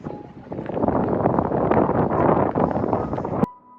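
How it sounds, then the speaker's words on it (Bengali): A cold wind blows at sunset on Suomenlinna island off Helsinki. It makes a loud, gusty rumble across the microphone, buffeting steadily for about three seconds before cutting off abruptly. No one speaks. "সানসেট হয়ে গেছে, অসম্ভব ঠান্ডা হাওয়া দিচ্ছে,"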